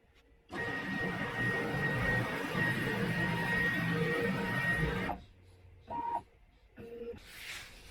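A CNC plasma cutting table's gantry runs back toward the front, a loud steady mechanical whir with a high motor whine lasting about five seconds before stopping, followed by a few brief shorter bursts of movement.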